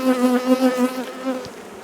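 Honeybees buzz close by at a hive, a short, pulsing drone that wavers in loudness over about two seconds.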